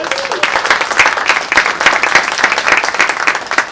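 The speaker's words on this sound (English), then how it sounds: "Please join me in giving them a round of applause." Applause from a live theater audience in Albuquerque, a loud, continuous wash of many people clapping throughout.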